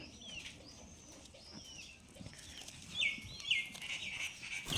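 Rajshahi Giribaz pigeons cooing in a loft, a few soft, close calls repeating with bird chirps mixed in over quiet background noise.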